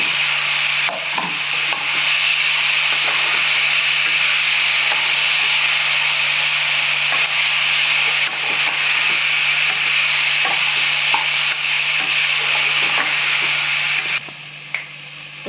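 Paneer is lightly mixed in a pan, a loud, steady, rasping scrape of a spatula across the pan with a constant hiss beneath, sustained for the whole stretch and ending abruptly.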